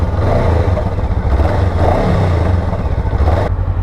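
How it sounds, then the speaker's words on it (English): A Honda NX500 motorcycle runs loud and close, its parallel-twin exhaust rumbling deeply with a steady, throbbing pulse and slight revving swells, heard alone without any talk. "Let me start her up and show you how the exhaust sounds like."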